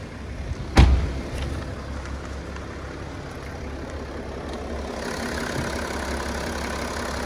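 A BMW 435d's six-cylinder twin-turbo diesel idles steadily with the bonnet open, a low, even rumble close by after a single sharp knock near the start.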